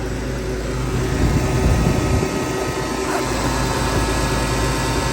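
A car air-conditioning compressor runs at about 6,000 RPM, giving a steady, loud, whirring drone with a faint high whine, heard alone.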